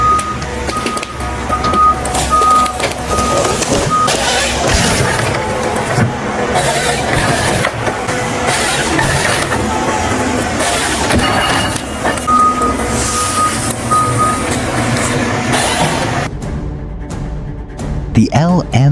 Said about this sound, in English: Nothing stands in the way of this logging machine. With a powerful engine, it takes on any challenge with ease.